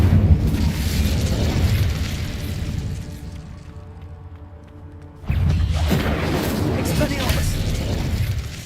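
Incendio fire spell cast in Hogwarts Legacy, a booming fiery burst followed by a fading rumble and a second loud whoosh of flame.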